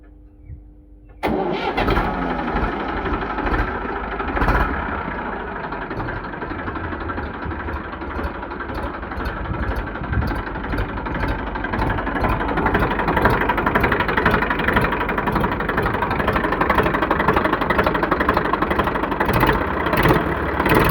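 A 2015 Eicher 380 tractor with a 42 HP engine cranks and fires up, then settles into a loud, steady, rhythmic diesel idle close by, running alone without talk.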